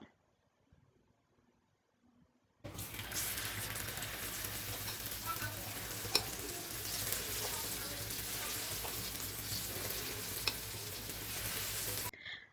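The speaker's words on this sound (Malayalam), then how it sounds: "അപ്പോൾ ഇതുപോലെ നമുക്ക് എല്ലാ ഉണ്ണിയപ്പം ഫ്രൈ ചെയ്തെടുക്കാം." Broken wheat unniyappam batter fries in hot oil, a steady dense sizzle that starts abruptly after a quiet moment and continues with a few sharp pops before cutting off.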